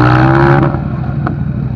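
KTM 1290R motorcycle with a big gearing-down sprocket and rear skid plate, its engine roaring loudly and steadily during a stand-up wheelie, then easing slightly in pitch, close by with no talk.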